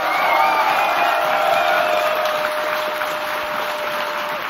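A crowd at a DreamHack esports event in Stockholm applauds and cheers in a dense, sustained roar that fades slightly toward the end, with a faint tone running underneath.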